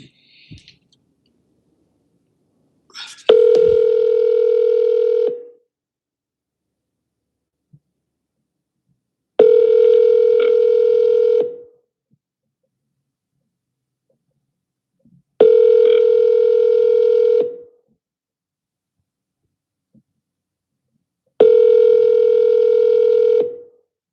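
A telephone call rings out after a short burst of dialing tones: four evenly spaced, loud, two-second ringback tones repeat about every six seconds against silence.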